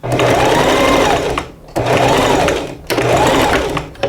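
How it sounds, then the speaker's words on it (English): A sewing machine stitches down the shoulder seams of a beginner's handmade graduation dress, running in three loud, steady bursts with brief pauses between them, close to the mic and alone. "I'm going to sew down the shoulders"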